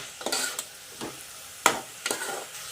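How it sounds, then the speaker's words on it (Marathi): A spoon stirs ginger-garlic paste and onion as they fry in a pan. A handful of distinct scraping strokes rise over a soft, steady sizzle, close by and moderately loud. "आला लसूण पेस्ट पूर्णपणे शिजवून घेऊ"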